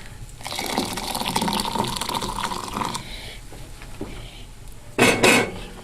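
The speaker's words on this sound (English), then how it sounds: "we've got hot water here from the tea kettle, which we'll go ahead and add to that." Hot water from a tea kettle pours into a soup pot of bacon potato chowder, a steady liquid gush with clinking pot and utensil sounds, then a short louder splash near the end.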